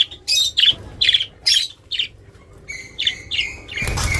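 An escaped pet budgerigar chirps close by in a home with other pets, a series of bright, short squawky tweets in quick bursts, ending with a rush of noise.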